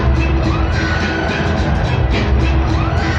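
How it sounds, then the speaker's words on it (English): A football stadium crowd roars during an NFL game between the Denver Broncos and the Green Bay Packers on a third down, making a loud, steady wash of cheering and noise from far away. "the crowd's going nuts"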